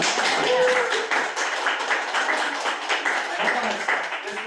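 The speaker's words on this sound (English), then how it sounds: "We can all give him another round of applause." Audience clapping for a guest at a talk event, a close, continuous patter of hands from a modest crowd, with a brief voice near the start.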